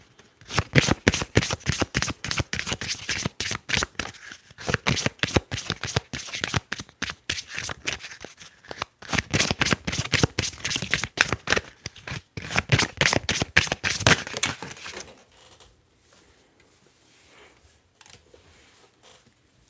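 Tarot cards shuffled close up in quick, steady riffling bursts for about fifteen seconds, then stopping into near silence with faint handling sounds.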